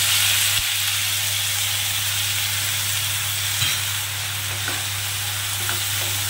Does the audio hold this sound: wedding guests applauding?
no